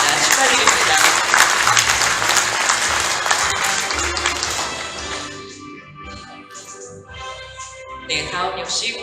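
Loud audience applause fills a hall at an award ceremony for a White Cane Day commemoration, dense clapping for several seconds that thins into scattered claps and faint murmur.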